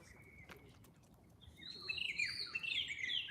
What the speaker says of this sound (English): You hear those birds? Don't they sound nice?